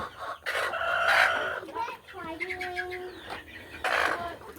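Backyard chickens cluck and squawk up close while being caught and banded on the leg, and a rooster crows once amid the flurry. People talk quietly nearby.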